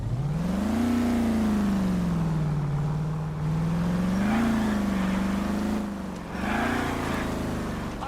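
An Oldsmobile Hydromatic 88 engine in the game L.A. Noire drones steadily and loud, its pitch rising and falling gently with a brief dip and recovery as the throttle shifts.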